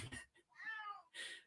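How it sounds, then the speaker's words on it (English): A house cat meowing close by, a short drawn-out call followed by a second brief meow, quiet and without other sounds. "Yeah, that was my cat."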